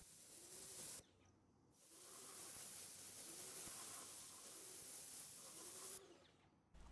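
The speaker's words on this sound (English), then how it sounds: "I would like to give it a quick spray and rinse" Water hissing from a spray nozzle rinsing a Cub Cadet four-stroke string trimmer in a continuous burst, cut off briefly once, fairly close and steady.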